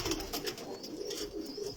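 Pigeons in a loft full of chicks give soft, repeated cooing calls close by, a few overlapping coos across the short stretch with no speech.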